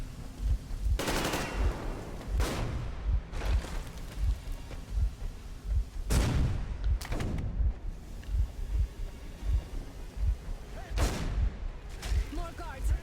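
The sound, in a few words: gunfire in the video game Metro Exodus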